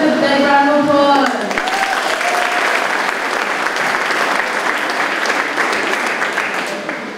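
A youth development fiafia night audience gives a loud round of applause, sustained dense clapping with some crowd noise, after a voice briefly speaks at the start.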